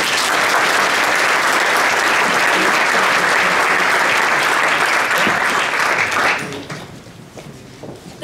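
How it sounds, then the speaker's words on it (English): A large crowd at a startup event in Oslo gives loud, sustained applause as the first pitch team takes the stage; the clapping stays full for about six seconds before quickly dying away. "Please give a warm applause to Mette and Cher."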